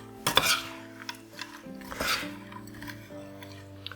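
Spoon stirring vegan mince pie filling of cranberries and mixed red fruits in a pot, a few close scraping and clinking strokes with soft wet squelches, short and irregular, with no talking.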